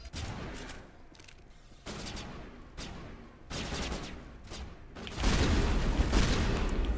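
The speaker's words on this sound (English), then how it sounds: "I'm switching to my shotgun." Shotgun blasts from the sci-fi shooter Mass Effect, a few sharp bursts spaced out over several seconds, followed by a louder, sustained stretch of gunfire and action noise near the end.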